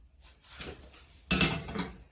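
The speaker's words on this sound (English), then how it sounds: "So I'm just going to be mixing on very low heat" A utensil scrapes and knocks against a pan while a mango dessert mixture is stirred over very low heat, with soft clinks and a louder scraping burst partway through, close by.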